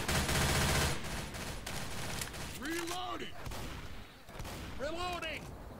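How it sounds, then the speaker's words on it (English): Gunfire rattles in a video game match, with dense bursts of shots at the start and sporadic fire after, mixed with game effects and voices talking over it. "Who am I getting shot from? I think Dole's shooting me"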